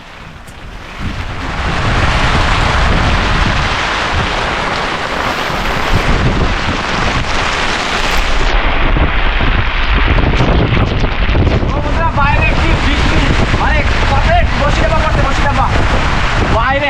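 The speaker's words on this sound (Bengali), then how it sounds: "তুফান উঠে গেছে" A storm rages on an Andaman island, with strong wind and heavy rain making a loud, dense, constant roar that rises sharply in the first seconds and then holds steady, buffeting the microphone.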